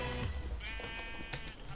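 A Minecraft sheep bleats in a short, wavering call, heard faintly over a busy game background.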